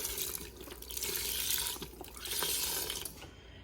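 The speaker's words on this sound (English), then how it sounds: "Once the meat is done being browned, add in your beef broth," Beef broth is poured into a pan of browned meat, giving a close, steady liquid splash and gurgle with slight swells over a few seconds.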